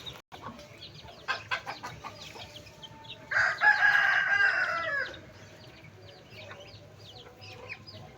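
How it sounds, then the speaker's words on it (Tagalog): A rooster crows once, loud and drawn out for about two seconds, in a yard where chickens and ducks are kept, with scattered clucks and farmyard noise before and after. "Manok po yan tsaka bibe."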